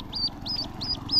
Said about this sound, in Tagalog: Sisiw po ng tikling.